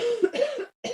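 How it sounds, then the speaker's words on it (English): A person lets out a close, loud run of coughs at a paper craft kit unboxing, with a brief pause before one more cough. "I was trying to ignore it. My cough."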